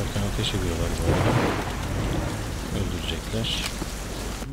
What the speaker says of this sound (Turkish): Bu alanda bile yağmur yağıyor.